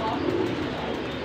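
Soft cooing of pearl-marked highflyer pigeons at a bird sale in Lahore blends into a busy, noisy backdrop with people talking nearby, a low continuous murmur rather than distinct calls.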